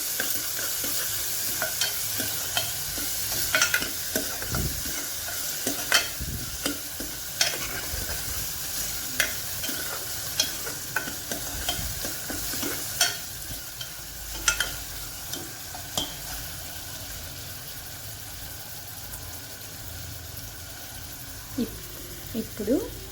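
Onions fry in tempering oil in a pan while a spoon stirs them, a steady close sizzle punctuated by repeated sharp scraping and tapping strokes.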